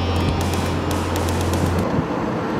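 A Tesla Roadster electric car driving quietly, heard from inside as a steady broad road and wind rush with a low hum that drops away partway through.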